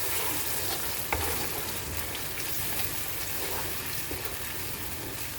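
Chili and ginger paste frying in a pan for ketchup chicken, a dense, rain-like crackling sizzle that stays loud and even throughout, with a single stirring knock early on.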